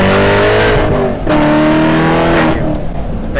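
A Ferrari 488 Spyder's engine roars loud and steady through a corner, with the pitch of its drone dipping and climbing as the revs shift, heard close from inside the car.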